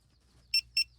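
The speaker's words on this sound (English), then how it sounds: "it's just going to beep like crazy at me when it's ready" A digital torque wrench adapter gives two sharp, high electronic beeps in quick succession, close and clear over a faint low hum, with no talking.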